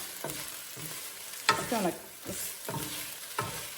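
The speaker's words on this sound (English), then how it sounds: "So I'm cooking the bok choy first and the onions." Bok choy and onions stir-fry in a pan with a quiet sizzle, broken by a few sharp tossing clatters and scrapes.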